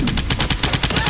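Rapid automatic gunfire from the video game Cannon Fodder 3, a steady burst of about nine sharp shots a second, loud and close, with game sounds low underneath.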